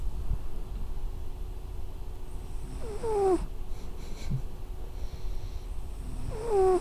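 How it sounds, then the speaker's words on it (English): A pet cat named Nez snores close by, with two distinct rasping breaths against a quiet steady background. "Nez is snoring so loud"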